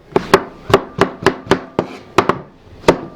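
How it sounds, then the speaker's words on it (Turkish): Knife chopping eggplant into cubes on a cutting board, a steady series of about ten sharp, close thuds at an uneven brisk rhythm, with no talk. "Patlıcanları bu şekilde kuşbaşı doğrayacağız"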